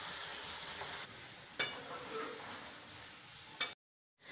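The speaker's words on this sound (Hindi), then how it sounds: "अभी मैं इसको सारे को अच्छे से फ्राई कर लूँगी" Chicken karahi masala sizzling in a pan over raised heat, a soft steady fry with a couple of sharp clinks, fairly faint, ending in a brief silence.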